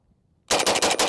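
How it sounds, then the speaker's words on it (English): A Scar 16 rifle in a video game firing a rapid string of loud, close shots after a brief silence, the reports running together in a fast, even rhythm. "Let me just shoot a couple rounds fast."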